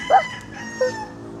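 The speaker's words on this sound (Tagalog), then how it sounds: "Say hi to the chicken." A chicken on a Philippine farm gives two short clucks about half a second apart, close and clear over light background noise.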